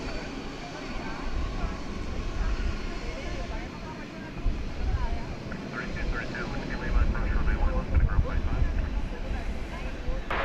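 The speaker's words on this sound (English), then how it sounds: "Follow along with the U.S. Airways plane as best we can. It's an American Airlines jet, but it's painted in the retro U.S. Airways livery." American Airlines jet in retro US Airways livery at DFW Airport at night, a steady broad engine roar with wind rumble that swells slightly toward the end, with people talking over it.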